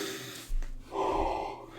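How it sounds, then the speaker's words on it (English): A single yawn from a person, with a sharp breathy intake, then a long voiced, drawn-out exhale heard up close. "Again, I've got the yawns."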